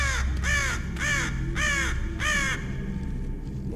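A raven in the video game Silent Breath caws five times in quick succession, loud, close and rhythmic, each harsh croak evenly spaced before the calls stop, heard over a low background rumble with no talking.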